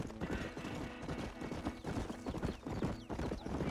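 Horse hooves clip-clop steadily in Red Dead Redemption, a wild horse being ridden at a brisk pace, loud and close with game ambience behind them and no talk.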